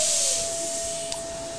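A DATRON 5-axis CNC machine cuts a small taper, giving a steady, fairly loud high hiss with a sustained pitched whine running underneath the whole time. No one speaks.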